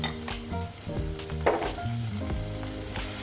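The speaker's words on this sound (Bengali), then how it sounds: "এবার আমি একে একে ড্রাই মশলাগুলো দেব। জিরে গুঁড়ো, একটু ধনে গুঁড়ো, কাশ্মীরি রেড চিলি পাউডার" Cumin, coriander and Kashmiri red chili powder sizzling in hot oil for a lentil fritter curry, a close continuous frying crackle with stirring noises and a steady low hum beneath.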